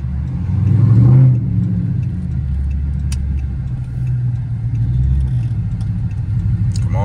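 A Dodge Charger SRT8 accelerating hard, its engine note a loud, steady low rumble that swells early, holds, then builds again, heard alone without talk.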